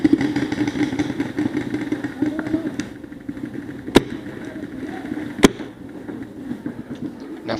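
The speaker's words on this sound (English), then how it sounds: "Now for some reason the marker's dry firing here." An Honorcore TGR2 Ronin paintball marker dry fires during play because its magazine is not feeding: two isolated sharp clicks about a second and a half apart over a steady outdoor rumble, with muffled voices in the background.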